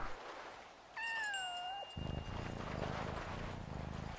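A cat meows in the video game Yonder: The Cloud Catcher Chronicles, one clear, drawn-out, wavering call over a soft ambient backdrop, followed by a steady rustling, clopping game soundscape.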